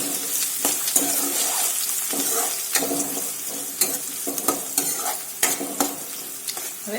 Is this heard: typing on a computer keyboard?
no